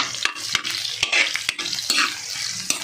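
Ginger being sautéed in a pan for chicken tinola gives a steady close sizzle broken by repeated scraping stirs, with no voices over it.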